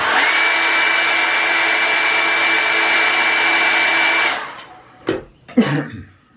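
A hair dryer blows on watercolour paint with a loud, steady, close-up whoosh for about four seconds. It then cuts off, and a couple of brief soft knocks follow.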